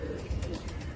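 A breeder pigeon with fine red feet gives a brief, low, close-up coo.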